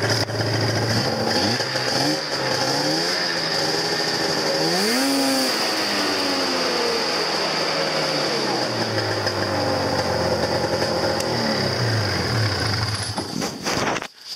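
An old snowmobile engine that needs a new fuel line runs steadily and loudly close by, with a revving rise and fall near the middle, no talk over it.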